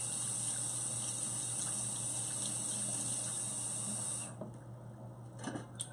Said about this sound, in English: let's get some cold water running.